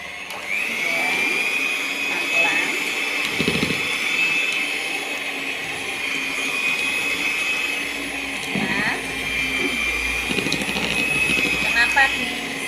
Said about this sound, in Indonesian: Kita mixer lagi dengan speed yang paling rendah.